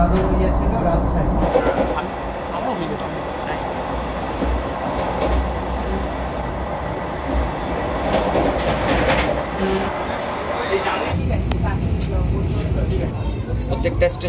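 Steady rumbling and rattling rides through the cabin of the Vande Bharat Express between Howrah and Puri, a continuous loud drone with people talking over it.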